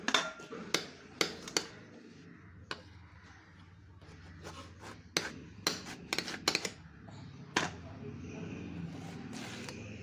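A knife cutting raw green mangoes into pieces, heard as sharp, irregular chopping taps and knocks on a board, with quiet handling sounds between them.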